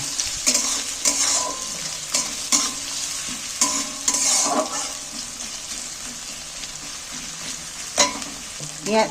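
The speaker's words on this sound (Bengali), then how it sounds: "এটাকে আমি একটু ভালো করে নাড়াচাড়া করে ভেজে নেব" Chopped onion and green chilli fry in a hot pan while being stirred, giving a close, steady sizzle broken by repeated scraping strokes of the spoon against the pan.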